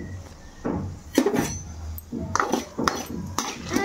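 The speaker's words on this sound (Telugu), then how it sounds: "ఇప్పుడు వీటన్నిటిని కలిసే విధంగా తిప్పుకోవాలండి" Tempering spices for pickle rice are stirred in a metal pan, producing repeated close scraping strokes and clinking taps of a utensil against the pan at uneven intervals, with no talking.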